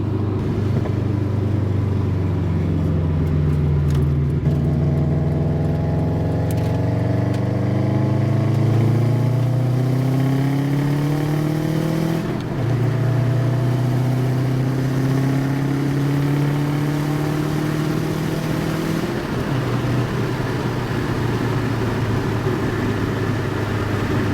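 A 2003 Subaru WRX engine with a catless downpipe and a slight exhaust leak revs up and down repeatedly with a loud, raspy exhaust note, droning continuously and close by, with no talking.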